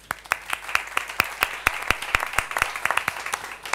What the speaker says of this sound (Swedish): Ge Daniel en varm applåd.